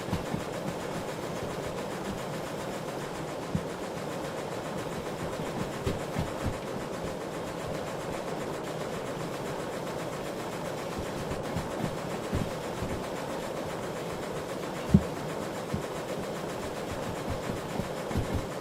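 Locomotive hauling a roughly 200-ton train with a caboose in the railway game Derail Valley, a steady low rumble with faint rail clatter and a couple of sharp clanks, continuous throughout and without talk.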